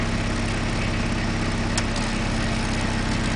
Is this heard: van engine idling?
yes